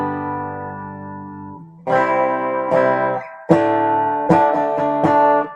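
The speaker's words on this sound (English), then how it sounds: "And then listen to this reverb." A clean electric guitar on the clean channel of an EVH Iconic amp plays sustained chords and plucked notes, each washed in spring reverb that leaves a shimmering tail, loud and close with no talking.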